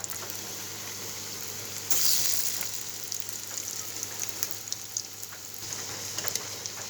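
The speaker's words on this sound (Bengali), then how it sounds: "চুলায় আমি কড়াইয়ের মধ্যে আরও কিছুটা তেল দিয়ে আমি সুন্দর করে পেঁয়াজুর আকারে ভেজে নেব।" Fish roe kofta frying in oil in a wok, a continuous close sizzle that jumps louder as fresh pieces drop into the hot oil, then settles into steady bubbling.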